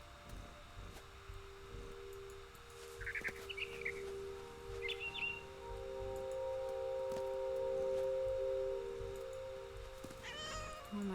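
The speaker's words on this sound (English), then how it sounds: "Then I heard chirping outside my window. It was a barn swallow going back to her nest." A barn swallow chirps in the video game What Remains of Edith Finch, giving short high twittering calls in a couple of brief bursts over a steady ambient hum and low background tones.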